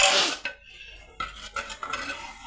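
Mashed curd is poured into a pan for Ettekya Pullishery, followed by a spoon scraping and stirring in a few distinct knocks against the metal, close and fairly loud.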